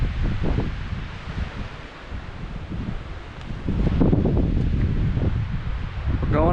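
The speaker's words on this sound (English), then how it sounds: "and it's very windy" Strong wind roaring near a mountain summit in the White Mountains, buffeting the microphone in heavy low rumbling gusts that surge louder partway through, close and loud with no clear speech.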